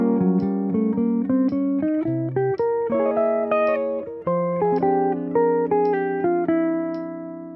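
A jazz lick played as a melodic line of clear sustained notes moving through a phrase, heard alone with no talking.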